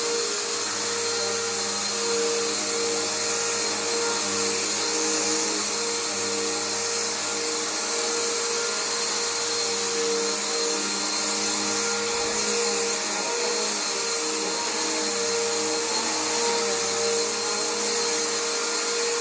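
A Bissell Powerforce bagged vacuum cleaner runs continuously at close range, a loud steady motor whine and rushing airflow with no interruption and no talking.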